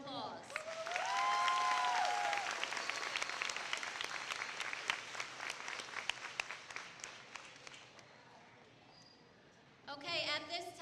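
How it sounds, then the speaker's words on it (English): An audience at a high school moving-up ceremony gives sustained applause for honor students. The clapping is steady and slowly thins, a few whoops rise over it, and a voice comes in briefly at the end. "let's give our Summa Cum Laude, Magna Cum Laude, and Cum Laude students a round of applause"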